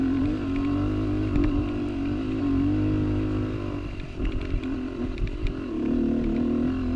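A dirt bike engine climbs a sandy hill trail, a steady loud droning motor with a strong low hum that roughens and sputters as the rider works up the slope, close and continuous with no talk.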